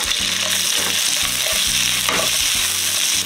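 Vegetables hit a smoking-hot pan on an ordinary gas burner for a 50-serving batch of Korean spicy pork stir-fry, giving a loud, steady sizzle and frying hiss with scraping and stirring noises throughout.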